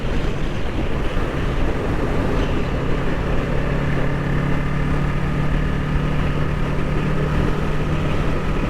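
A 2020 Kawasaki Ninja 650 motorcycle engine running steadily while riding, a constant loud hum with faint tonal whine blended into heavy rushing wind noise throughout.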